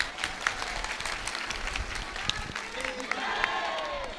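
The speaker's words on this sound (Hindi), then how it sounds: "अब ताली बजाओ।" An audience at a Hindu spiritual discourse claps together in a dense, sustained patter of many hands, with faint voices mixed in, the applause swelling slightly toward the end.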